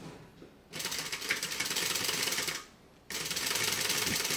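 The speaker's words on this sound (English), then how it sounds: "go ahead and use an 1/8 of an inch seam allowance and sew the bottom" Sewing machine running a bottom seam on a backpack bag at a narrow seam allowance, with two steady bursts of fast, even stitching split by a short stop.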